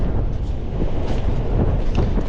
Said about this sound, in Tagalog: Mahangin lang mga kalaki.